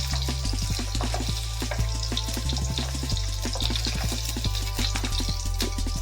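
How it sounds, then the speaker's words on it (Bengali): Paneer pieces fry lightly in hot oil, giving a steady crackle with scattered pops over continuous background music. "হালকা করে আমি ভেজে নিলাম"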